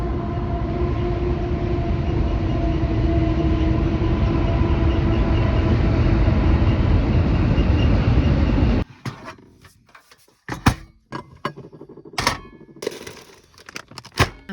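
Train rolling over a trestle, a loud continuous rumble and roar that ends abruptly partway through, followed by scattered sharp knocks and handling noises close by.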